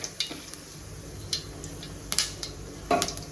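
Fennel seeds hit hot oil in a pan, giving faint crackles and sharp ticks scattered across a few seconds, with light clinks of a utensil against the cookware in a quiet kitchen.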